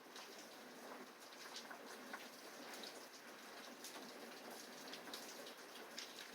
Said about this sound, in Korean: 마지막 가을비가 내리고 있는 것 같습니다.